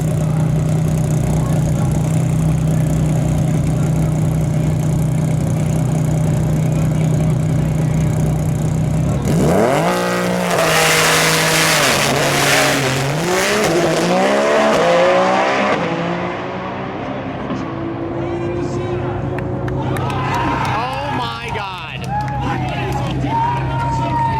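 A 3500 HP Nissan GT-R makes a quarter-mile drag pass at a night event: a loud steady idle, then a sudden roaring launch and screaming acceleration that fades into the distance with a crowd behind it.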